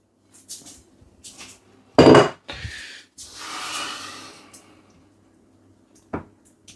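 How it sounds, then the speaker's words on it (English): Tinned potatoes and egg being spread in a frying pan for a Spanish tortilla, heard as a few sharp utensil scrapes and clatters against the pan, separated by short quiet gaps. "Going to spread the potatoes out evenly."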